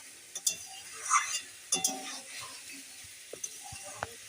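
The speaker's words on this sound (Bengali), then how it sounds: "এই মাছের ডিমটা দিয়ে এবার কিছুক্ষণ এরকম কষে নিয়ে তারপর জল দিয়ে দেবো" Fish roe being stirred and sautéed in a pan for a bitter Bengali dish with pumpkin: scattered clinks of a spoon against the pan, soft scraping and a faint sizzle, quiet and intermittent with pauses.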